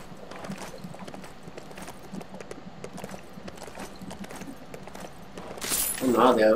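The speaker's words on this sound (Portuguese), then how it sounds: "deixa eu subir aqui no cavalo." Rapid, steady horse hooves clip-clopping as a rider travels in the LEGO Worlds video game on PS4, with someone talking over the hoofbeats.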